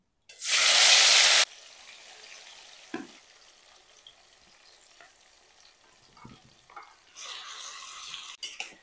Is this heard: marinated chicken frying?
yes